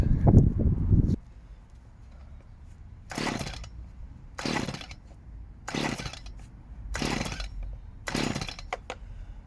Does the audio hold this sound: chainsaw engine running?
yes